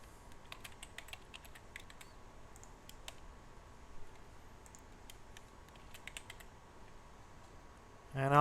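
Quiet bursts of keystrokes on a computer keyboard, scattered light clicks with pauses between, close and faint, ending with a brief louder sound.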